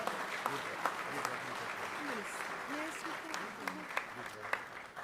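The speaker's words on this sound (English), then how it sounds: "Round of applause for George Logothetis" Audience applause at a Hilton gala award ceremony for the Greek Independence anniversary, honoring George Logothetis, Executive Chairman of Libra; steady moderate clapping across the room with a few sharper claps and faint voices mixed in.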